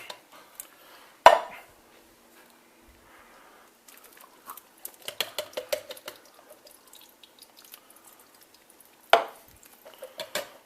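Canned pinto and black beans being mixed for chili, with sharp clanks of a utensil or can against metal and bursts of wet, squelching, dripping sounds between quiet gaps.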